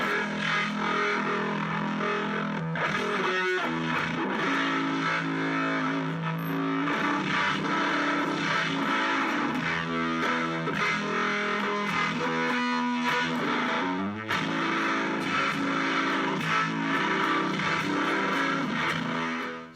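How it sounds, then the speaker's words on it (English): A cigar box guitar with a humbucker pickup plays through heavy distortion, ringing out a loud, sustained, gritty stream of chords and notes with no talking. "And then distorted is classic humbucker scream."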